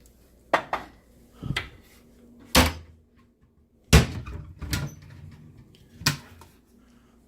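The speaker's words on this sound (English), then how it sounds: "Casserole dishes." Imperial China casserole dishes being handled in a kitchen cupboard: several sharp ceramic clinks and knocks spaced irregularly a second or so apart, close and fairly loud, with quiet pauses between.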